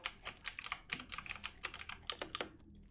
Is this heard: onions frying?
no